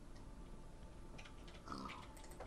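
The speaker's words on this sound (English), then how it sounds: "Whoa, pig family." Pigs in Minecraft give faint, brief oinking grunts over a quiet game backdrop, a couple of soft snorts near the end.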